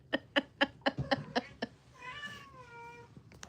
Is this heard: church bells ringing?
no